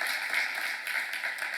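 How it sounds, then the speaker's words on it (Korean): Applause from a church seminar audience in Korea: a dense, even patter of many hands clapping throughout the short burst, with no pauses and no voices. "박수 하세요"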